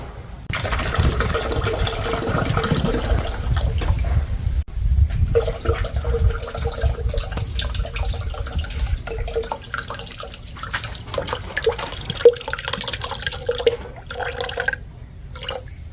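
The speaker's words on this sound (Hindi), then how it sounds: "ये पानी निकाला जा रहा है जग में कोकोनट में से।" Coconut water pouring from a small hole in a coconut into a jug at home, a steady splashing trickle with drips, fairly close and continuous for about sixteen seconds without speech.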